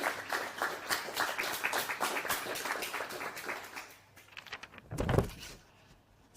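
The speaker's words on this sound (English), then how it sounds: "I just want to give you all a round of applause for the great efforts that you've done." Audience applause at a student program networking event, a dense patter of many hands clapping steadily for about four seconds, then thinning out with a louder burst near the end.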